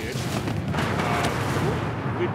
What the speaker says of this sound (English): Good job on the explosion. Wolf goes boom.